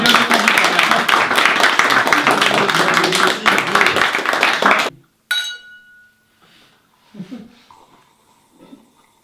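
Applause breaks out for a guest, dense clapping and cheering filling the room for about five seconds before cutting off abruptly, followed by quiet voices talking at low level.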